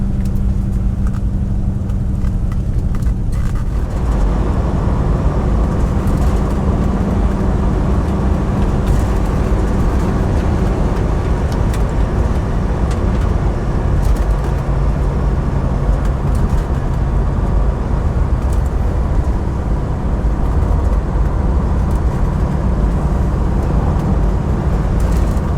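A 1968 Rover P5B coupe drives on country roads in Oxfordshire and Berkshire, giving a loud, steady rumble of engine and road noise from inside the car with no one talking.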